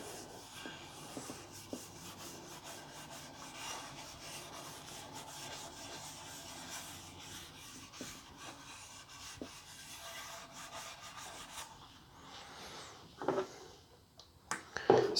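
A rag rubs thin, watery wipe-on polyurethane finish onto a wooden guitar body in soft, quiet, repeated strokes, with a few sharper knocks of handling near the end.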